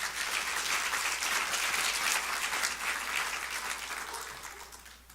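A church congregation applauds, a dense sustained round of clapping that holds steady before gradually fading out.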